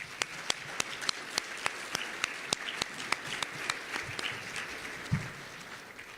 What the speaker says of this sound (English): can we have an applause for the entire city leadership,